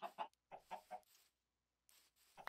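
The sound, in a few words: chickens clucking in Minecraft video game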